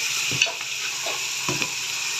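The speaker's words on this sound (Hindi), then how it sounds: "इसको मैं 2 से 3 मिनट के लिए फ्राई करूँगी ताकि इसका पानी जो है बिल्कुल खुश्क हो जाए।" Beef fries in hot oil with a steady sizzle while a spoon stirs and scrapes the pot a few times, close and fairly loud.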